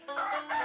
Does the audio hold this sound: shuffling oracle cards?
no